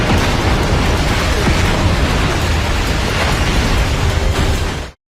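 Heavy artillery cannon fire and explosions in an animated battle, a loud continuous roaring blast-filled rumble that churns without pause before cutting off abruptly at the end.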